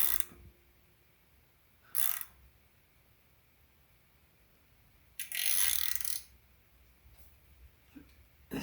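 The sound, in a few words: tightening cam bolt to seat cam seal on Subaru EJ257 engine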